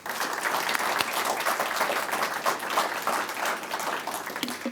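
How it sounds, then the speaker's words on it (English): School district audience at a State of the Schools address giving one more round of applause, a dense, steady roar of many clapping hands, loud and continuous throughout. "Can we give her one more round of applause?"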